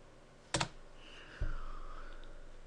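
A few computer keyboard keystrokes on a desktop, a quick double click followed after a pause by a single key press, close and fairly quiet with a faint background hum.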